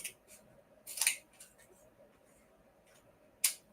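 Scissors trimming the overlapping paper edge of a gift bag pop-up card: a few quick, crisp snips close by, then a pause and one more cut.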